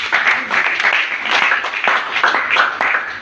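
A church congregation claps hands together in a dense, continuous burst of applause that fills the room steadily from start to finish.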